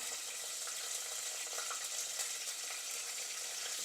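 Garlic cloves and curry leaves frying in hot oil for a crab masala, giving a steady, even sizzle that holds at a moderate level without any voices.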